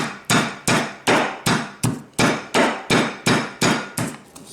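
Lemongrass is pounded in a mortar for a baked snapper marinade: about eleven loud, close, evenly spaced thuds in a steady rhythm, each ringing briefly before the next.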